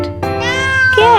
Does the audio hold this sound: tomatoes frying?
no